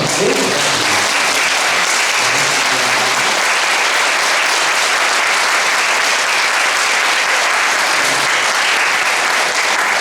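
Sustained applause from a concert audience greeting a guest violinist and cellist at a 15th-anniversary choir concert, dense and steady throughout with a brief voice at the start.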